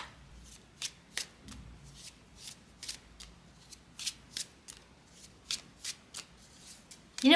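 A deck of cards is shuffled by hand, producing a quiet, regular series of crisp riffling snaps at about two per second, close to the listener and with no talk over them.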